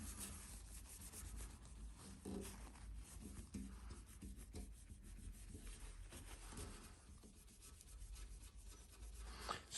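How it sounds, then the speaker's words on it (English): Blue paper roll soaked in acetone rubbed steadily over the bodywork of a 1998 Yamaha YZF-R1, a continuous scratchy rubbing and wiping sound with uneven strokes, close up and with no talking. "I'm just gonna get a bit of acetone on a bit of blue roll and just see if that cleans off"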